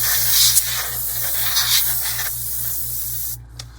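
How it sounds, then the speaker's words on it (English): A sustained hissing spray close by, blowing sanding debris off a 1/48 scale B-25J model kit, a steady airy blast that cuts off near the end, with a faint low rhythmic hum beneath it. "I like to go through and spray off all the debris from sanding and such."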